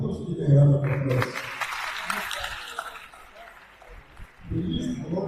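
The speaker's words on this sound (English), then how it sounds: "I think we should give a round of applause." Audience applause at an annual university registry lecture rises for about three seconds between stretches of someone speaking, settling into a moderate, steady patter before the talking resumes.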